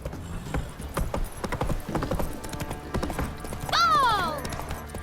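A horse trotting in The Witcher 3 video game gives a steady, close clip-clop of hooves, with a sharp whinny near the end and game voices speaking over it.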